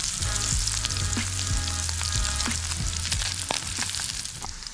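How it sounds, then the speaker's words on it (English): Sausages sizzle and fry in grease on a tabletop fire pit camping stove outdoors, a steady close crackle with frequent sharp pops of spitting fat throughout. "Gotta be careful, you know, that grease popping off."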